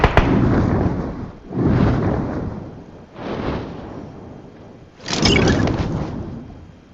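Gunfire from behind in the video game PUBG: four loud bursts of shots, each a sharp crack trailing into a rough decaying roar, spaced about every one and a half seconds with no voices.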